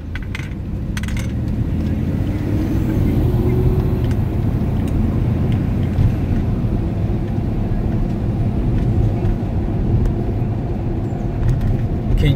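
A car drives along, a constant low engine and road rumble filling the cabin with faint rattles and ticks over it, steady and close throughout.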